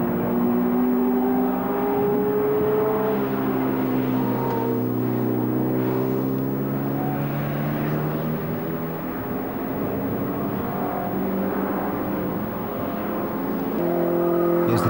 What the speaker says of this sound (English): Here's 141 again, that's Alan Wilkinson in the Westfield.